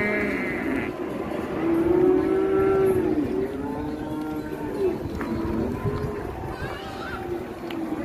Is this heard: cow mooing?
yes